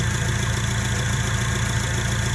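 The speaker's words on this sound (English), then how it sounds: "we have a perfectly idling vehicle right now. It's idling down around 850." A 2002 Acura RSX Type S engine idles steadily and evenly around 850 rpm, a continuous low rumble with faint mechanical ticking, no voices.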